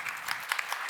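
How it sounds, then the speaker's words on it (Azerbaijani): Audience applause at a sales-panel question-and-answer session, a dense burst of many hands clapping at close range with sharp spikes, filling the whole moment without talk. "Alqışlayırıq sizi"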